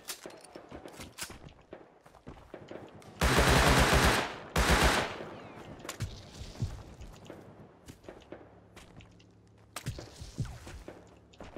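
AK rifle gunfire in the survival game Rust: two loud, close automatic bursts, each about a second long, with quieter footsteps and scattered in-game noises before and after.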